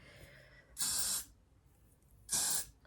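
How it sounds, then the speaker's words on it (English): Holding hairspray hisses out of an aerosol can in two short, bright bursts, close and loud, with quiet pauses around them. "As everyone knows, it's a holding spray."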